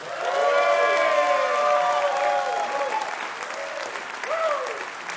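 A crowd claps and cheers for a bluegrass band at a live music show, and the sustained applause runs under a voice talking over it.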